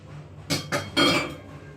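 A knife chops an onion into pieces: three sharp, close chops strike the board in quick succession, with the last one ringing slightly longer.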